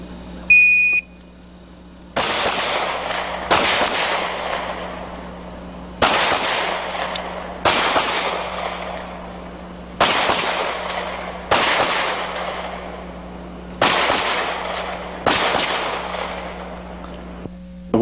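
Eight evenly spaced, loud pistol shots from a .45 Para handgun at an outdoor shooting competition, each sharp crack ringing out with a short decay, preceded by a brief electronic beep and a steady background hum.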